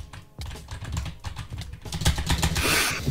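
Someone types rapidly on a computer keyboard during a Minecraft gaming session, with close, clattering keystrokes that grow denser and louder toward the end.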